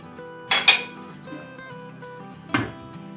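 A spoon knocks and scrapes against a cooking pot while capsicum and vegetable pulao is stirred, two or three clanking strikes with a soft sizzling hum between them, close and fairly loud.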